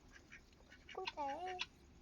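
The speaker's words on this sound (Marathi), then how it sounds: "बदक दिसला का?" A farm duck kept with country chickens gives a brief run of nasal quacks, fairly faint and slightly distant, with a few soft background sounds before it.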